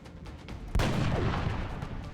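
A single heavy sniper rifle shot from XCOM: Enemy Unknown cracks loud and close, then rolls into a long booming tail of reverberation, with no voices over it.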